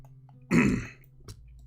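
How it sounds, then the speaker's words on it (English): A single loud, throaty burp rises out of near silence, followed by a short, softer throat sound. "take a cough, get the phlegm out of my throat, and then have some gas"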